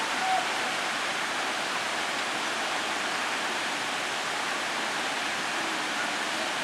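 Waterfall at Imouzer, Morocco, heard from a campsite facing the cascade: a loud, continuous broadband rush of falling water, steady and unbroken throughout with no other sounds standing out.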